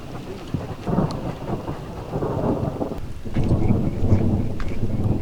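Thunder rumbles through a mountain meadow thunderstorm over steady heavy rain, the low roll swelling louder toward the end with no voices present.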